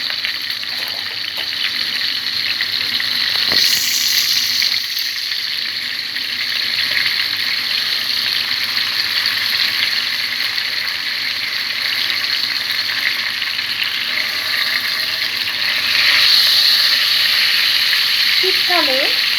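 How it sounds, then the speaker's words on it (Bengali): Koi fish lightly frying in oil, a steady bright sizzle with occasional clicks and clatter from the pan, continuous throughout. "জাস্ট হালকা করে মাছগুলোকে ভাজবো।"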